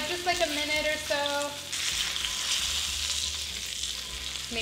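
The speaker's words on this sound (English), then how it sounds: "let's flip that over. Look at that delicious sear on that" Roast beef sears in a hot pan with a steady, close sizzle that swells after a brief flip, and a faint tonal sound sits over the start.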